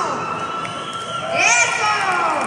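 Big crowd at a League of Legends final in Centro Citibanamex cheers and shouts, a dense swell of voices that rises toward the end, with an amplified voice over it.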